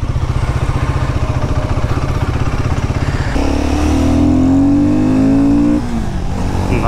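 A Royal Enfield Guerrilla 450 motorcycle's engine while riding, first a steady rapid thumping idle-like pulse, then rising revs through the gears as the bike pulls away, loud and close with no talk.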